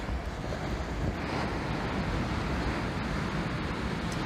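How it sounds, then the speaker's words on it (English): Strong, gusting wind batters the microphone on Cley Beach in Norfolk, a loud, constant roar with surf rumbling underneath and no voices. "exactly how strong that wind is. Picking up by the minute."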